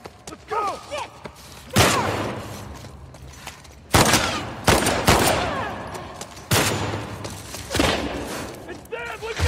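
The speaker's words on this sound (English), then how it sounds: "We're taking fire!" Rapid bursts of gunfire in the video game The Last of Us Part II, loud and close, with several heavy volleys breaking through shouted voices.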